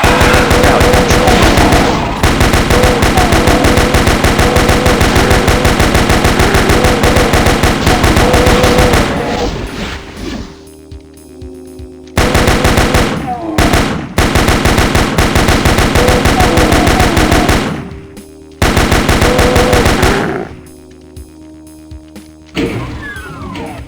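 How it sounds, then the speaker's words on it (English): Double pistols fire in rapid sustained bursts in the Doom game Tribute Project, loud and continuous with brief pauses and clicky gaps between volleys. "We're going to use the double pistols, I think."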